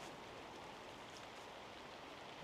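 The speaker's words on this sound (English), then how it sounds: "it started to rain now" Steady rain falling across a cemetery, a dense continuous hiss of drops with no breaks, fairly close and even in level, with no voices.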